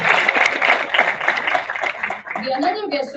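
A conference audience gives a guest of honor a dense round of clapping that rings out steadily, then thins toward the end as a voice begins to speak.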